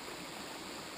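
A backwoods river runs in a steady, even rush of flowing water, close and continuous, with no other sounds.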